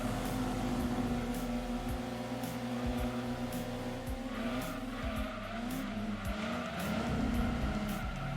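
Race cars in Gran Turismo 2 skid and squeal into a wall, a continuous loud engine roar with sliding tire squeals and scattered thumps over about eight seconds, no voices.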